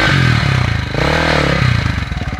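A motorcycle engine revs hard and close, its throbbing rising and falling in pitch with a rough, pulsing beat throughout.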